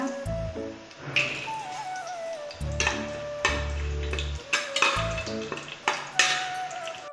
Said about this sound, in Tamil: நம்ம போட்டிருக்க பட்டை நல்லா பொரிஞ்சிச்சுங்க